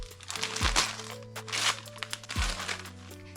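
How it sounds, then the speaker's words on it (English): Wrapping paper crinkles and crackles as a neatly wrapped handmade Christmas gift is torn open, loud bursts of rustling with two short low thumps, over a steady background hum. "I'm gonna unwrap it."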